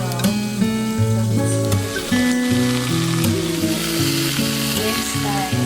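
Burgers fry steadily in a pan for a home breakfast, a continuous close sizzle and crackle with occasional stirring, over a layer of tonal background music.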